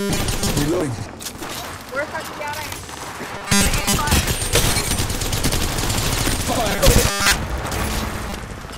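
Gunfire in Apex Legends on the Kings Canyon map, with bursts of shots and booming impacts layered over game sounds and a voice talking throughout.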